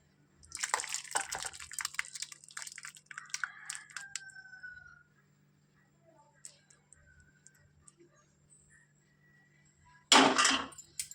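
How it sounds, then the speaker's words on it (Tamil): Bitter gourd dal kuzhambu is ladled and poured into a bowl, with soft drips, wet scraping and light utensil clinks, a quiet lull, then a louder clatter near the end. "இப்போ இந்த குழம்பு ஒரு பவுலில் மாற்றிக்கிறேன்"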